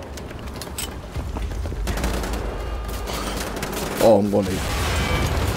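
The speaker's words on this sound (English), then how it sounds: "I think it's a flare gun or it's a handheld grenade launcher." A handheld grenade launcher fires in Wolfenstein: The Old Blood at the docks. A steady rumbling wash of game combat noise carries one sharp thump near the end, with someone talking over it.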